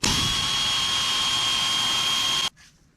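A steady, loud high-pitched whine from a power tool, likely an impact driver or drill, backing out the top bolt on an old pickup truck; it runs continuously for about two and a half seconds, then cuts off abruptly into quiet.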